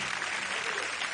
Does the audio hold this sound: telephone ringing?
no